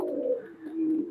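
Pakistani highflyer pigeons coo in a loft in Khulna, two soft rolling calls close by with a brief dip between, no voices over them.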